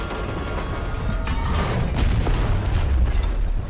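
Glowing things blown up in the TankHead video game, a rumbling burst of booms and crackling debris that swells around the middle and keeps rolling on, loud and close.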